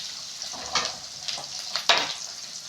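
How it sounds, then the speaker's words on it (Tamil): Onions sautéing in a pan for tomato rice make a moderate steady sizzle broken by a few brief stirring scrapes, with no voices. "வெங்காயம் வதங்கிறதுக்கு லைட்டாக சால்ட்டு தூவி விட்டுட்டு வதக்கிக்கலாம்"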